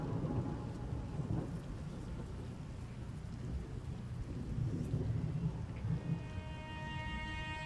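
Rain and thunder from the Wrathful Rain effect in the video game Othercide: a steady hiss of heavy rainfall with low rumbling thunder rolling beneath, quiet and continuous, with no voices.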